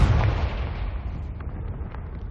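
A Confringo spell explosion in the video game Hogwarts Legacy: one heavy blast at the start that rolls off into a decaying rumble.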